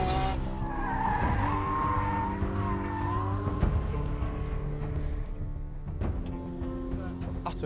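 A Ferrari F40 oversteering while following an F50, tires skidding and squealing over a loud, continuous, rising and falling engine roar that fills the whole stretch.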